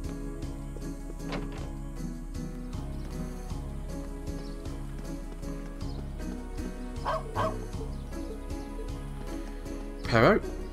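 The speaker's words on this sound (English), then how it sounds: "Perro, cute dog." A dog in the video game Trails of Cold Steel gives a short burst of yipping barks near the end, over steady in-game background music.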